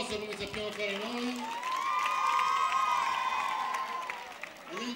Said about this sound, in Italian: Vi facciamo un applauso caloroso, come sappiamo fare noi.